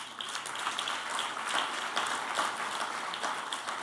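An audience at a scholarship launch applauds with a continuous, even wash of many hands clapping. The sound is fairly faint and distant and holds steady for several seconds.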